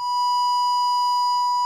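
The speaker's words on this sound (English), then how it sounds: "I got the old signal generator set up here to a 1K sine wave." A steady 1 kHz sine wave from a signal generator holds one unbroken pure tone for under two seconds, loud and constant with no pauses.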